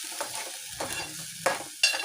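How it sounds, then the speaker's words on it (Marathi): A ground masala paste frying in a pan and stirred, with short scraping strokes and a light sizzle in a quick irregular rhythm, close and fairly loud, with no voices. "आता हे वाटण मी परतून घेणार आहे।"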